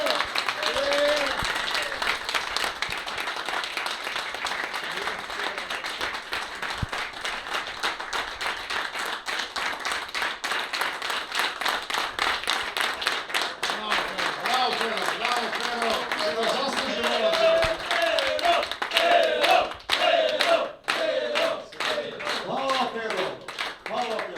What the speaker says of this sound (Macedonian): Перо Јовчевски, аплауз, најсилен!